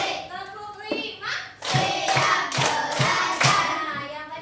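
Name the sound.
children clapping five times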